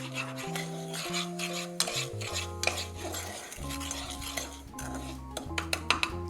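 A metal spoon stirs melting sugar in a heated pot for caramel, scraping and clinking against the pan in a slow, uneven rhythm, close and clear with no talking.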